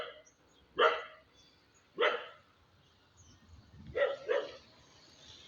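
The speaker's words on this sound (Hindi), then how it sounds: "कुछ कुत्ते अपनी वफादारी साबित करने भौंक भी रहे हैं मुझे देख करके" Several dogs bark at a passer-by carrying a camera on a street in Porbandar, with single sharp barks spaced roughly a second apart, then a quicker double bark near the end, moderately close and alone.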